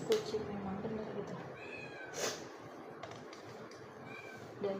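A cat meows a few times at moderate volume against a busy, noisy indoor background, with faint voices in the room.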